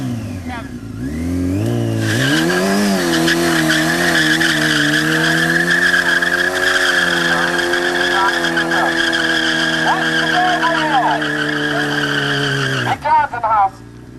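Motorcycle doing a burnout, its engine revving hard and steady while the rear tire spins and squeals against the pavement for over ten seconds, loud and close, before cutting off abruptly with a couple of short blips.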